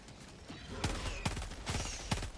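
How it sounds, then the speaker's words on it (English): Artillery fire in Helldivers 2 arrives as a few sharp, loud blasts at uneven intervals, each followed by a short crackling tail, with a faint background of battle. "So now they're doing the whole... artillery bullshit."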